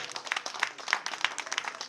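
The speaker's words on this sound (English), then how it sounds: "Please, can we give him a round of applause?" An audience applauds a veteran Nigerian comedy actor with brief, scattered hand claps in a quick uneven patter at moderate distance and fairly low level.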